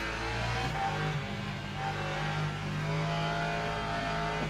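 An LMP2 prototype race car engine in the Le Mans Ultimate sim at Fuji howls steadily, a dense continuous drone with a sustained high pitch that holds throughout without talk.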